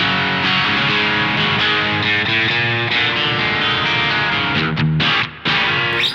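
Electric guitar played through a T-Rex Dr Swamp distortion pedal, a fluid, biting punk-rock crunch with sustained chords ringing out steadily and loud, briefly cutting out near the end before resuming.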